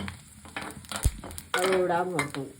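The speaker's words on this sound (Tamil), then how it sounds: "ஓமம், வெந்தயம், கசகசா இது நல்லா வறுத்து பெருஞ்சீரகம் போட்டு" Ajwain, fenugreek, poppy seeds and fennel roasting dry in a pan, with soft scraping and stirring, a clack of a spoon, then a louder sizzling rustle as more spice goes in.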